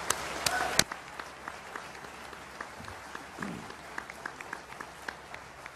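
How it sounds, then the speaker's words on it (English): Audience applause for two debaters at a Freedom Fest 2008 debate, opening with a few sharp, close claps before settling into a softer, fairly faint patter of scattered clapping, with some talk underneath. "Let's give these gentlemen an incredible round of applause."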